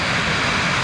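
Steady, loud, broadband roar of a 1960s SIAI-Marchetti aircraft's engine, close and continuous through the whole stretch with no voices.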